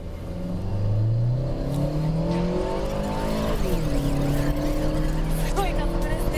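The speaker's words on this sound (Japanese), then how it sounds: "それでは舗装路の発進加速からいってみましょう。" A 240-horsepower Mitsubishi Airtrek Turbo R launches from standstill on pavement, its engine note climbing loudly through rising revs and gear changes in a close, sustained acceleration.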